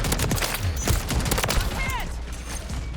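A Riveter shotgun fires in a Call of Duty MW3 match amid clustered gunfire, sharp reports mixed with mechanical clatter and a low rumble, loud and busy throughout.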